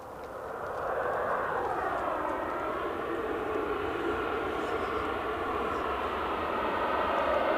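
Jet aircraft at Edinburgh Airport roaring steadily for several seconds, a broad loud engine rush that builds early and holds, heard outdoors from a spotting position with no talking.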